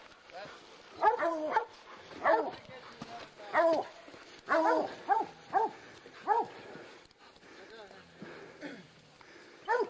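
Hunting dogs bark in repeated loud bursts during a lion hunt in West Texas, several dogs baying and yipping close by in an outdoor setting, the barks coming in quick clusters.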